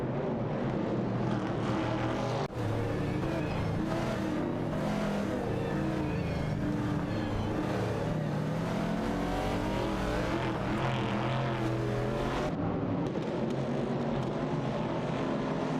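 A 1970 Chevrolet Camaro and a 1970 AMC Javelin battle in a racing video game, their engines droning loud and continuous with shifting revs that rise and fall for the whole stretch, with a brief dip partway through and no talking.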